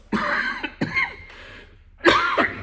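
Three harsh coughs, loud and close, with short pauses between them.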